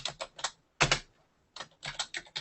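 Someone types on a computer keyboard in quick bursts of close, crisp key clicks separated by short pauses, with no talking.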